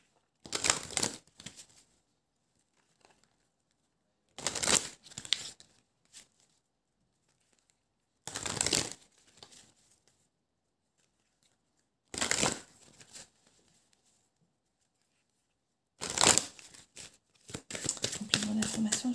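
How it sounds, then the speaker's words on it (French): Tarot cards laid out for a reading, five separate bursts of shuffling and slapping cards at a steady pace, close and fairly loud, with gaps of quiet between them. "Je vais mettre un petit peu quelques cartes ici de la triade dessus"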